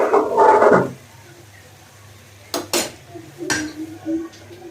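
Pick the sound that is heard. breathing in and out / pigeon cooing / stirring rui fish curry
stirring rui fish curry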